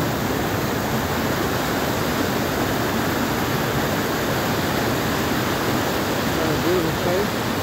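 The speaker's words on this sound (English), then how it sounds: "The sound of the water and the waterfall and the color." Stewart Creek Falls near Ymir, B.C., pours a steady, dense roar of falling water, broad and unbroken at close range, with no pauses or voices over it.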